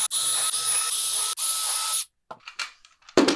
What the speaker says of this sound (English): I'm going to make some pilot holes in this panel